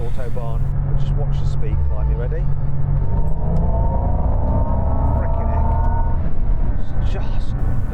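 A Xiaomi SU7 Ultra electric car pulls hard on a derestricted autobahn, a loud steady road roar under a whining tone that climbs steadily in pitch as speed builds, with a voice over it at the start.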